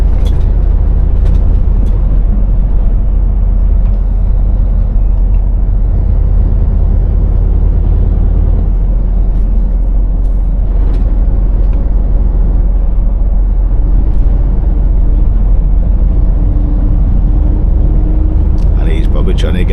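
Deep, steady engine rumble from a Scania V8 660 truck pulling away on the road, heard from inside the cab as a continuous loud low drone with faint background noise.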